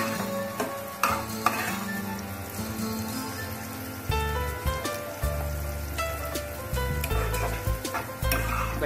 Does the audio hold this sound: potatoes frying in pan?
yes